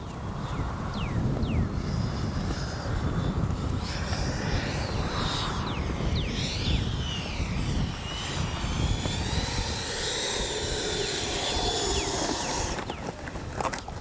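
A Freewing 90mm F-22 radio-controlled jet comes in fast to land, its ducted-fan whine rising and falling as it passes, with a steady roar from start to finish at moderate distance.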